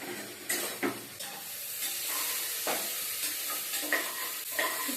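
Onion and mixed vegetables for sambar sauté in a pan, a continuous frying sizzle broken by the repeated scrape and clatter of stirring, close and moderately loud with no voices.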